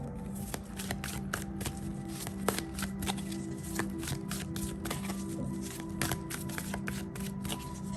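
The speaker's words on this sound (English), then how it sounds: "Let's pull a card or two from the Animal Tarot." Animal Tarot cards are shuffled by hand close up, a run of soft, papery riffling and sliding taps with repeated sharper flicks over a quiet room, no talk.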